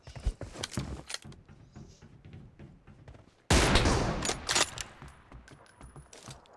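Gunfire from a PUBG Mobile sniper team-deathmatch fight: scattered sharp shots, then a sudden loud rapid burst that gradually tapers off, followed by a few sparser cracks.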